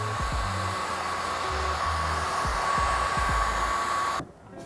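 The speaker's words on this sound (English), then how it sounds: "we'll go ahead and go over them with the heat gun" A heat gun blows with a steady, loud whooshing hum while heat-sealing paint protection film edges on a car hood, close up and unbroken, cutting off abruptly near the end.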